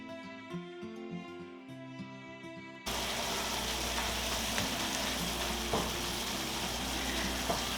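Ground beef frying in a pan for lasagna, a soft continuous sizzle that begins a few seconds in after quiet tonal sound, with faint stirring scrapes.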